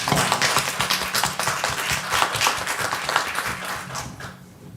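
Audience applause after a panel conversation on addressing harm beyond the criminal legal system, steady dense clapping from a crowd filling the room, fading slightly at the end.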